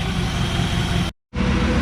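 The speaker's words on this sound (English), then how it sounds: "But she's still running smooth, idling away." A barn-find 1963 Chevrolet Impala SS engine idles with a steady, close, loud rumble that cuts out briefly for a moment before resuming just as evenly.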